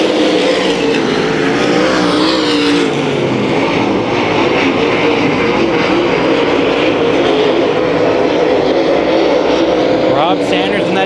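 Race cars roar down the back straight at Kings Speedway during a heat race, a loud continuous engine blare with a commentator talking over it throughout.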